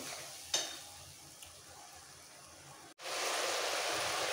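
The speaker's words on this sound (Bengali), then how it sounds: "একটু কষিয়ে নিতে হবে। ভালো করে কষাতে কষাতে যেটুকু জল আমি দিয়েছি জলটাও টেনে যাবে" Rice and lentils for khichuri stir-fry in a pan, a soft continuous hiss with an occasional scrape early on, then after a brief gap a louder, denser sizzle rushes on steadily.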